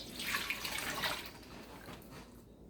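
Cultured milk is poured from a container into a bowl and basket for farmhouse cheese, making a soft, close splashing trickle that tapers off after a couple of seconds; no talking.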